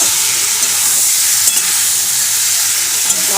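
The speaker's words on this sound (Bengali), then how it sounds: "দিয়ে ভালো করে এখন চিকেনটাতে ভালো করে কষাবো" Chicken stir-fried in a pan with capsicum, tomato and onion, a loud, continuous close-up sizzle with steady hiss and a few faint stirring scrapes.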